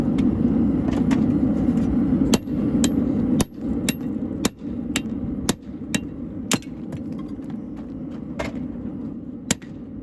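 A repaired blacksmith's hammer strikes hot steel while forging an axe by hand, landing sharp, ringing blows at an irregular pace, about one every half second to second, over a steady low rumble.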